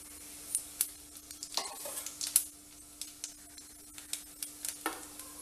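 Fennel seeds sizzling in hot oil for tempering a paneer gravy, giving a faint steady crackle with scattered small pops and stirring clinks, with no voices.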